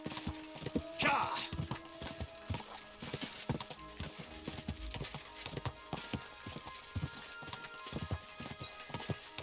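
Horse galloping in the video game Kingdom Come Deliverance 2, a fast steady clip-clop of hooves throughout, with a brief whinny near the start, fairly quiet overall.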